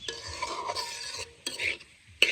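Bottle gourd is stir-fried in a pan: a utensil scrapes and stirs in short, repeated strokes over a soft sizzle, close by and without speech.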